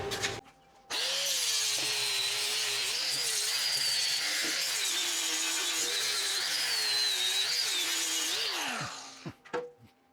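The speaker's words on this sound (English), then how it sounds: "we're gonna have to get a grinder on it. Might as well do that right now." An angle grinder with a flap disc working on the metal of a trailer under repair, a loud steady whining grind with wavering pitch that runs continuously for about eight seconds before spinning down.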